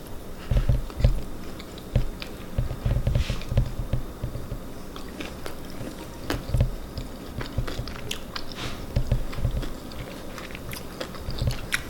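Close-up crunchy bites and chewing of vegan buffalo cauliflower wings, irregular crisp crunches followed by softer squishy mastication, loud and near with no talk.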